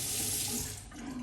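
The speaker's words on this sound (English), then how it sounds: "Warm it up under the hot water." Hot water running steadily from a bathroom tap while a Henson safety razor is warmed before shaving, a close, continuous rushing splash that fills the whole short moment without any voices.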